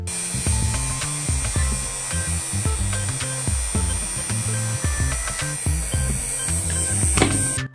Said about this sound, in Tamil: அதுக்காக ஸ்க்ரூ போடுறதுக்கு 2 ஓட்டை மினி ட்ரில்லில் போட போகிறேன்